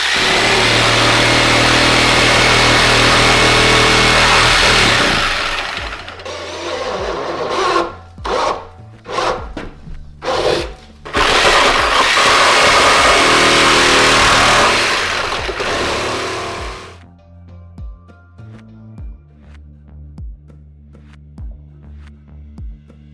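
A plastic bucket's top is sawn off with a loud, continuous rasping cut, then broken into short bursts of sawing, resuming in a long stretch before stopping, with quiet knocks and handling after.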